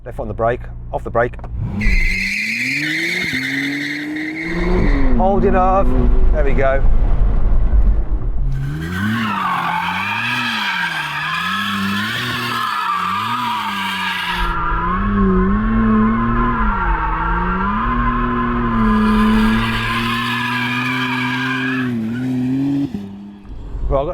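A McLaren Artura launches hard with launch control, its engine revving up through rising, shifting tones while the tires squeal loudly throughout. Someone talks over the engine at times.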